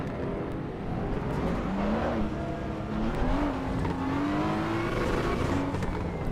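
A race car engine in the racing game Assetto Corsa Evo drones steadily as the car drives through, its pitch rising and falling with gear changes, loud and continuous without talk.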